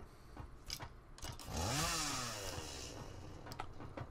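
A chainsaw in the video game Satisfactory revs up and runs for a couple of seconds while cutting through plants, its rising whine settling into a steady buzz amid clicks and rustling foliage.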